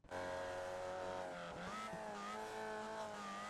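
A Formula Vee race car at Oulton Park drones loud and close, its engine pitch dipping abruptly midway as it shifts down to second gear, then climbing again.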